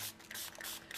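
A spray bottle mists water onto a handpainted plaque in several quick, soft hissing bursts, fairly faint and close.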